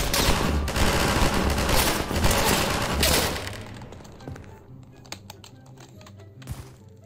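Rapid gunfire from a weapon in Garry's Mod, loud and dense for the first three seconds, then breaking into sparse scattered shots and clicks that fade over the remaining time.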